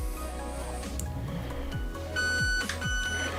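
Three short electronic beeps from the programmable trigger of an Ama Tsu Maru HK416 ambidextrous airsoft AEG, spaced evenly over a steady background hum, fairly close and clear.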